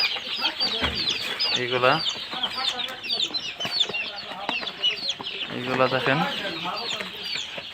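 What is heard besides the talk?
one-month-old Egyptian Fayoumi chickens clucking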